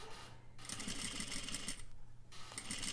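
A sewing machine runs steadily while stitching a curved fabric flap with understitching, its motor hum and rapid needle clatter going in two long bursts with a brief pause between, close and fairly loud.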